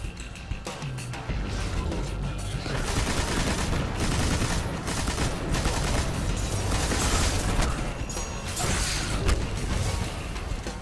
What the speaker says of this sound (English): Right, how much would the machine gun do?